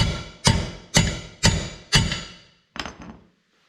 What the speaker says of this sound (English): Kind of beating the hell out of that nut.